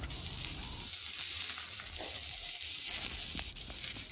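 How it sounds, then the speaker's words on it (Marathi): Pieces of one small onion sauté in a little oil in a kadhai, giving a soft, steady sizzle close by with light stirring and a faint high whine in the background. "एका छोट्या कांद्याचे तुकडे आपण परतून घेण्यासाठी ह्या कढईत घालतो आहे"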